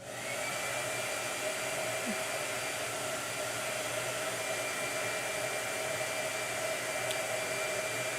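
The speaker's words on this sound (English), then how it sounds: "All right, so blow dryer." A blow dryer runs steadily and close for the whole stretch, an even, unbroken whooshing drone with no talking over it.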